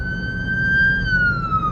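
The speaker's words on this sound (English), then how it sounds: "The ambulance passing" An ambulance siren sounds as it passes by, a steady high wail that bends downward in pitch near the end, loud over a low rumble of traffic noise.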